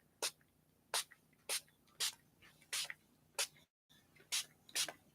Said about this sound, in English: let's try the acrylic spray.